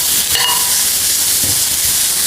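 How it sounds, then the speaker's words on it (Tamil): Grated carrot and vegetables sauté in a hot pan, giving a steady close hiss and sizzle with a faint scrape of stirring. "இப்போ இது எல்லாத்தையும் நல்லா வதக்கிக்கிடுவோம்."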